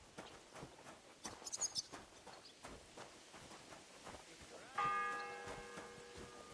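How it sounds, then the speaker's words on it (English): A single church bell strikes once in a video game, a clear ringing tone with a long fading hum that follows soft footsteps and faint game sounds. "The first bell. Another 11 to go."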